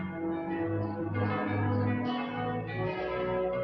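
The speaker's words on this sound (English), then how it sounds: "Yeah, and they're ringing the bells." Church bells ring in a film scene where Martians succumb to bacteria, a steady, full, resonant peal filling the whole stretch with sustained overlapping tones.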